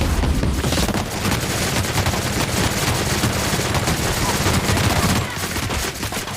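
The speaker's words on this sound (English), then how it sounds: "Time to plunge a bullet into them." Continuous dense gunfire in The Outer Worlds, a sustained rapid automatic barrage with booming impacts, loud and unbroken for several seconds before easing slightly near the end.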